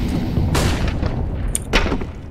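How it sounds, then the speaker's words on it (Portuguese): A flashbang grenade in Counter-Strike bursts with a sharp bang, then a second crack follows, both cutting through a dense rumble of in-game background noise. "Throwing flashbang."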